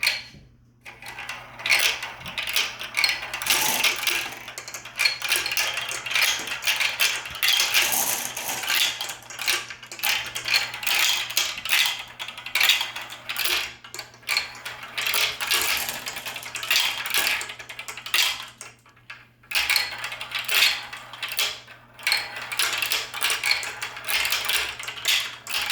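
Marbles run down a built marble run structure, giving a steady, busy clatter of small hard clicks, rattles and rolling knocks that goes on without pause, with brief quieter dips, close by.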